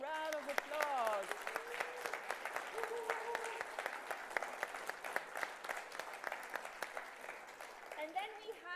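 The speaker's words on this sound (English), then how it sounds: "Once again, a big round of applause." An audience applauds students at a prize-giving ceremony, a sustained patter of clapping with voices and cheers rising over it at moments throughout.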